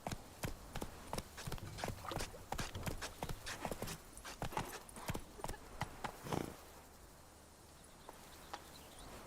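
In Witcher 3, the horse Roach's hooves clip-clop in a steady close trotting rhythm, slowing and fading toward the end over a quiet ambient background.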